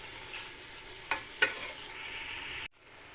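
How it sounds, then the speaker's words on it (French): Chicken simmering and sizzling in oil or butter in a pan, a soft steady frying hiss with two brief utensil knocks before it cuts off near the end, no talking. "Il faut donner le temps au poulet de mijoter un petit peu dans l'huile ou dans le beurre ou dans le gras"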